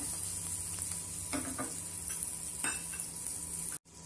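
Mashed yam chokha being stirred in a pan with green chillies and a pinch of asafoetida: a soft, steady sizzle with occasional scraping strokes, then a brief cutoff.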